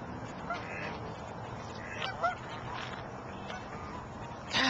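Large birds give short honking calls outdoors while feeding on scattered snack food. The calls are faint and sit under a steady wash of outdoor noise, with no voices.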